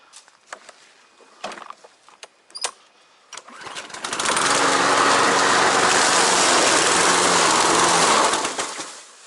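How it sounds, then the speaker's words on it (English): A lawn mower used to shred leaves for compost is pulled and started after some clatter and knocks, then roars loudly and steadily for several seconds before it winds down. "Now we're going to start the mower again, guys, and shred up some more stuff."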